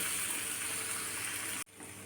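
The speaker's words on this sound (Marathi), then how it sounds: "थोडंसं पाणी घालायचं आहे आपल्याला मसाल्यामध्ये" Water is poured into a frying spice masala with garam masala in a pan for egg masala, making a steady rushing pour for about a second and a half before it stops abruptly.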